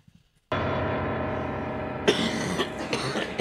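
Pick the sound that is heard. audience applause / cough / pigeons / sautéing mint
cough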